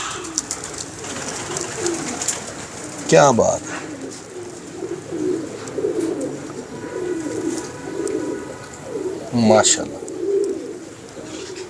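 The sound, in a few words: pigeons cooing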